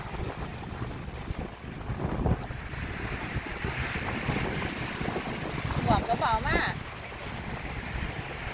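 Strong wind buffets the microphone at a lakeside beach on Torö, a constant rushing roar with faint water and surf beneath, and a voice heard briefly through the gusts.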